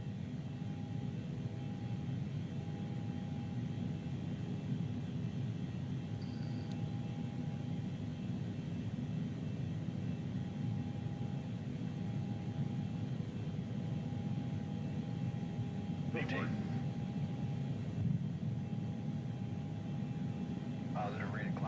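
A PMDG Boeing 737-800 jet in Microsoft Flight Simulator 2020 takes off, its engines giving a steady, loud low roar with a constant tonal whine. Brief clicks and cockpit noises come through near the end.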